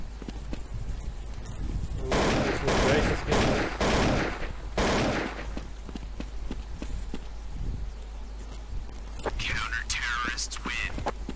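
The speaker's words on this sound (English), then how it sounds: "Machine gun." Machine gun fire in Counter-Strike 1.6 crackles in loud rapid bursts, with a long volley early on and further shots later, alongside footsteps and game effects.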